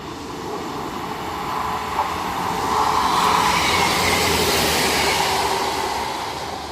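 A Class 158 train passes through Stechford station with a broad rumbling roar that swells to a peak midway and then slowly fades, loud and continuous with no talking.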